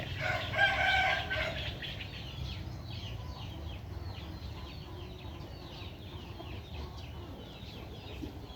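A rooster crows loudly at the start, followed by a steady chorus of chickens clucking and chirping nearby.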